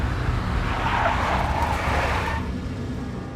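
In the video game Max Payne, a big black Mercedes skids with a loud tire squeal over engine rumble, the screech rising and then fading after a couple of seconds.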